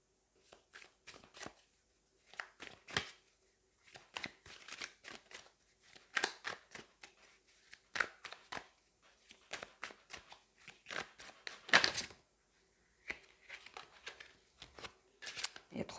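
Darkwood oracle cards are shuffled in close, repeated riffling bursts with short pauses between them, sharp papery flicks under quiet speech.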